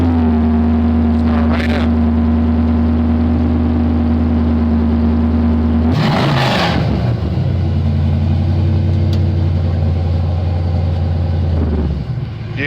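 A 6.0L LQ9 V8 swapped into a 1969 Firebird idles with a loud, steady low rumble, then blips in a sharp rev burst before settling back to idle, with someone talking briefly nearby.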